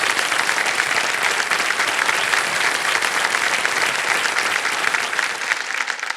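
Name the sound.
studio audience applause for contestant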